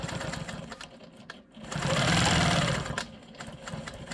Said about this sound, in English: I'm gonna go ahead and come in here and quilt these straight lines